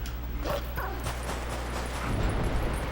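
Game dog sounds from Link in wolf form in Zelda: Twilight Princess, short yips and whimpering barks over a steady background hum.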